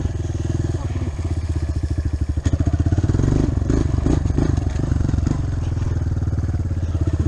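A motorcycle rides forward in third gear at a slow, near-stalling pace, its engine chugging in a steady, close, loud pulse with brief surges and clatter, no talk over it.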